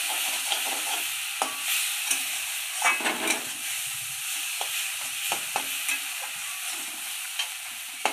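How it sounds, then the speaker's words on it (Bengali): A spice mix fries in a pan with a constant soft sizzle, punctuated by occasional light taps and scrapes of a stirring spoon. "সব দিয়ে ভেজে নিচ্ছে মশলাটাকে।"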